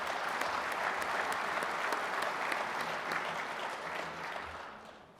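A conference audience of building trades members claps in a steady, dense round of applause that holds at full strength before tapering off near the end.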